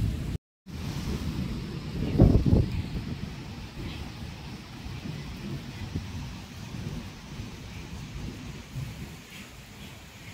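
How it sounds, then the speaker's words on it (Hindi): Heavy rain pours steadily in a village during a storm, with a loud thunder rumble near the start before the downpour settles into a constant hiss and wind-buffeted roar. "बहुत ज़ोर से बारिश लगी है"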